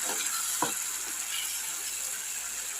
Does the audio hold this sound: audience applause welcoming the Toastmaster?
no